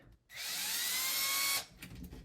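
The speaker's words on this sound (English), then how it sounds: "Take a small drill bit and put it right in the center" A power drill with a small bit spins up sharply and whines steadily for just over a second while marking a hole center, then stops, close and fairly loud.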